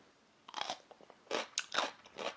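Someone bites and chews sweet, juicy Korean pickles eaten with pizza, giving several sharp, close crunches in uneven bursts separated by short quiet gaps, with no talking.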